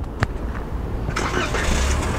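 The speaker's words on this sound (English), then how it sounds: "And then the car will start up." A 2023 Toyota Corolla XSE hatchback engine cranks by remote start and catches, then settles into a low idle rumble close by.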